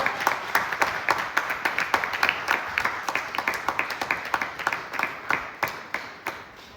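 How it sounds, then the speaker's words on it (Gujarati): Audience applause at a Shri Krishna Leela Katha religious gathering in Junagadh, honoring a guest: a steady run of sharp hand claps at moderate distance, fairly even in rhythm and sustained throughout, with no talk over it. "ચંદ્રેશભાઈ માટે પણ જોરદાર તાળીઓ થઈ જાય."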